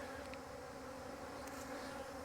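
Honey bees fly out of a hive during a wildflower honey pull, a steady continuous buzz of many insects close by with no talk.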